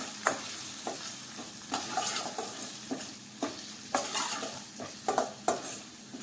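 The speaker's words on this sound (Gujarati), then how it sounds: "રાઈના કુરિયા ઉમેર્યા પછી આપણે ચલાવી લઈએ" A spoon stirs split mustard seeds through masala chillies in a pan, with soft repeated scraping and clinks against the pot over a faint sizzle, close and fairly quiet.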